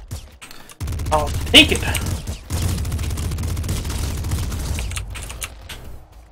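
Pop gun firing in the Nuclear Throne video game: dense, rapid bursts of small gunshots running almost continuously after a brief quiet start, loud and close, with a short spoken remark over the shooting.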